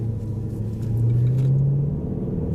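A custom Range Rover SVR by Urban Automotive, driven in dynamic mode, gives a deep, close engine and exhaust rumble that swells briefly in pitch as it pulls away, then settles.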